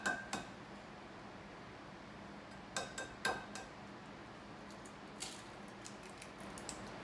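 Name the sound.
cracking an egg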